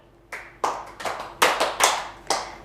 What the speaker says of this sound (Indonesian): Tepuk satu kali, tepuk dua kali, tepuk tiga kali, tepuk empat kali, tepuk lima kali